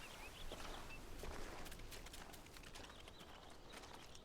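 Hooves clip-clop at a steady walking pace in a Final Fantasy XVI game scene, faint and even under a soft ambient background.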